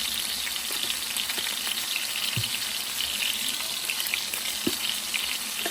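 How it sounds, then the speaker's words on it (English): Meat searing in a hot pan, a loud continuous close sizzle and crackle with a couple of faint low knocks, no voices. "Just sear it on both sides"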